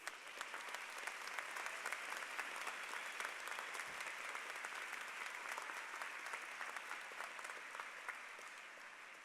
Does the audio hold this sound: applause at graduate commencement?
yes